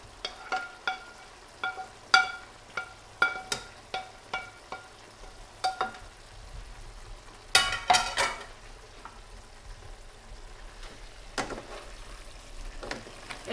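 Onions fry with potato in a pan for sausage and peppers, a spoon scraping and stirring in repeated quick strokes over a low sizzle, close by with no talk.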